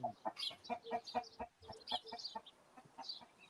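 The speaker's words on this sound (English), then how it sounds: "there's sparrows out here. There's doves and pigeons." Birds calling from big trees in a neighborhood, sparrows, doves and pigeons among them, a busy run of short repeated chirps and clucking calls, fairly close and clear, with no talking.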